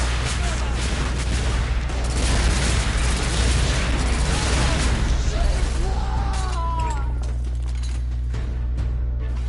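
A thermite rifle fires in The Order: 1886, with loud, dense bursts of gunfire and explosive pops over a steady low rumble of battle for the whole stretch.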